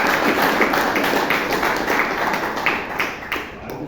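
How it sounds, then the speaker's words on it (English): Clapping from a Toastmasters meeting audience in Bangalore, a compact burst of hands nearby that starts strong and gradually thins and fades over a few seconds. "Big round of applause for"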